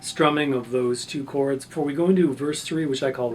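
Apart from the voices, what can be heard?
No everyday noise stands out behind the speech.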